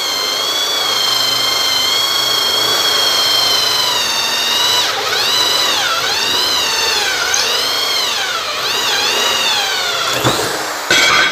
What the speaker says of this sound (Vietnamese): Khi chúng ta khoan có thể khoan tốc độ chậm được ha.